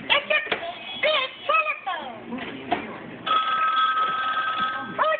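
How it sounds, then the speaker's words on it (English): A toy telephone trills with a repeating electronic ring in short bursts, then a longer sustained ringing tone, close and fairly quiet, mixed with voices talking over it. "Oh, the phone is ringing."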